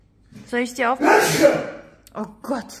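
A single loud, breathy sneeze bursts out between short bits of speech, close to the listener.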